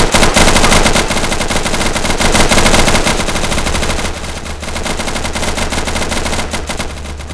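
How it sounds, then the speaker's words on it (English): Rapid automatic gunfire from the video game Insurgency 2 rattles in dense, sustained bursts, loud and close, with a brief dip in intensity midway before firing continues. "The weapons available to you also seem to lack punch, as they all sound like staple guns with 30-round magazines"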